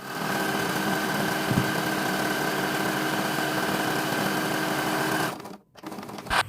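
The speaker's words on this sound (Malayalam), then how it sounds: "ഈ ഭാഗവും നമ്മൾ അടിക്കുമ്പോൾ ഡബിൾ സ്റ്റിച്ച് കൊടുക്കണം കേട്ടോ" A sewing machine stitches together pieces of waste cloth for a bean bag: a steady, fast mechanical whirring hum runs nearly continuously at close range, then stops briefly near the end before starting again.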